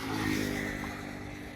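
A motorcycle that has run out of petrol is kick-started while the rider stands over it, giving a steady, fairly loud mechanical engine drone with a low harmonic hum throughout.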